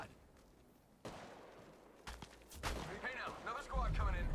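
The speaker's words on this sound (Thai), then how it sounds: "มีคนยิงมาไกลๆครับผม" Gunfire in Apex Legends Mobile, scattered shots and bursts of varying loudness, some faint and far off, with someone talking over the action.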